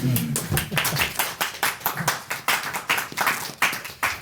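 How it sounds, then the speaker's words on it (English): Audience in Hamburg applauding Tobias Müller of the New Institute at a Tuesday discussion event: a short burst of clapping from a modest crowd, steady and fairly close, with a voice briefly heard at the start. "we should applaud him at this point already"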